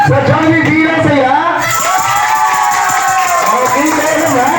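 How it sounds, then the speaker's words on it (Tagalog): Clapping mixed with loud cheering and children shouting at a Jollibee birthday party for a first birthday, a lively, close crowd roar with whoops rising and falling throughout. "palakpakan na may kasamang hiyawan"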